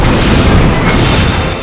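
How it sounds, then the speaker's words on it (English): A spaceship explodes in the Star Trek Bridge Commander game during a Starfleet versus Cardassian fleet battle, one loud, sustained, rumbling blast that fills the whole moment and slowly fades. "Simulated enemy ship has been destroyed."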